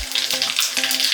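Cumin seeds sizzling in hot oil for a tempering in a Gujarati undhiyu kitchen, a steady close crackling hiss with a couple of brief low knocks from the pan, no talking.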